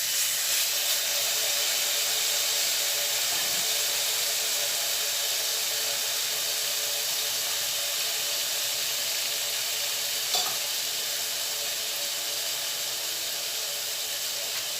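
Turkey fillets sizzle in a frying pan, a loud, steady hiss with a bright, even crackle that continues unbroken from start to finish, with no voices.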